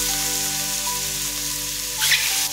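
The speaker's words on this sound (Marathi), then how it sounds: "आता आपण कढईमध्ये टाकून घेऊया आणि व्यवस्थित असे फ्राय करून घ्यायचे" Masala-coated mushrooms frying in hot oil in a kadhai, a loud, close, continuous sizzle with a brief extra crackle burst near the end.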